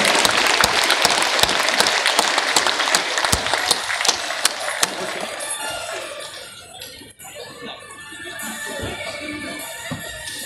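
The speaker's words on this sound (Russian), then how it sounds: "ваши громкие аплодисменты!" Audience applause at a martial arts championship ceremony in Krasnoyarsk: dense, loud clapping for the first half, tapering into scattered claps and crowd murmur, with people talking faintly underneath.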